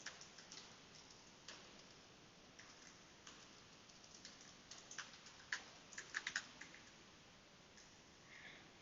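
Keys tapped on a computer keyboard as a customer name is typed into sales software, a quiet, irregular run of light clicks with a few sharper taps, no voices.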